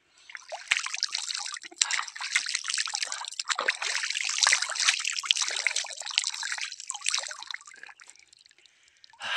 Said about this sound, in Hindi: थोड़ा मुंह भी धो लेता हूँ पानी के अंदर